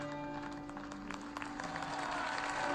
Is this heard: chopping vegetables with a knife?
no